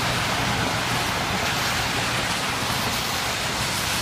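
Steady rain on an outdoor walkway beside roadside debris, a dense, unbroken hiss that stays even and fairly loud throughout, with no voices.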